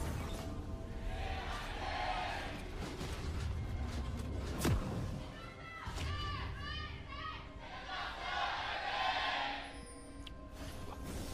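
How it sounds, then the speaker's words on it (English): A crowd at LoL Park erupts in cheers for Sandbox during a Griffin versus Sandbox Gaming LCK 2019 Spring match, a broad roar rising in two swells beneath steady commentary and game effects. "A little bit of an erupted cheer for Sandbox"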